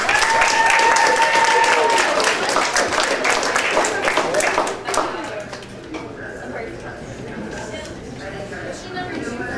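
Audience applause for a quiz-game winner at a school broadcast, strongest at first with bright sustained tones overhead, then thinning into scattered claps and murmuring after a few seconds.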